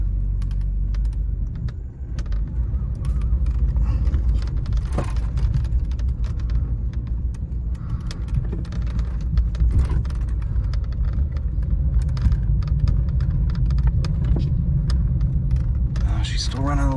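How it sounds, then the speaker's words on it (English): A 1986 Oldsmobile 98 Regency Brougham engine runs with a misfire, a continuous low rumbling idle close by with uneven roughness, while people talk over it. "it's still misfiring, but we don't know yet if it's fuel related"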